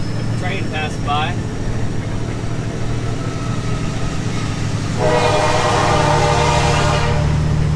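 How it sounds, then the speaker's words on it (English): A train rolls past a farm truck near a grain-dumping pit, heard as a steady low rumble and engine drone that swells into louder screeching, clattering wheel noise, with a brief horn-like whistle early on and someone talking. "Train passed by."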